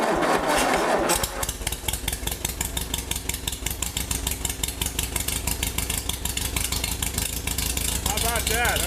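A 1947 MG TC engine cranks over with a manual starter lever, then catches and settles into a steady, close, loud idle with a rapid even exhaust beat throughout.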